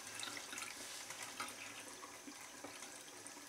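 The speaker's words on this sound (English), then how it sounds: "should be able to see a sink there, so let me put the tap on" Cold water from a sink tap streams onto the sleeve of a raincoat, a steady broadband splashing and running sound that holds continuously at moderate level without speech.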